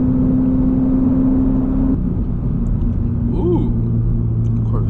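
A Chevrolet Corvette C5 passes by on a road, its loud low engine rumble steady throughout and a brief rising whir of the car going past partway through, heard from inside traffic.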